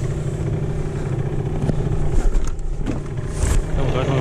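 A PGO Hot 50 scooter engine runs on a short test ride in a small enclosed area, a steady close buzzing drone that rises a little in revs partway through, with no talking.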